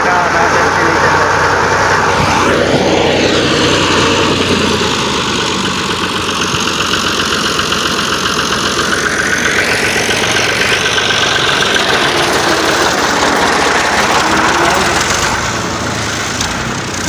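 A tractor engine runs steadily and loudly throughout while pushing another tractor stuck in soft soil, its pitch rising and falling with load, with a voice talking over it.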